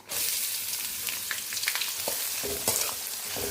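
Chopped onions and chillies frying in a pan for tomato rice, a steady loud hissing sizzle with occasional stirring scrapes throughout.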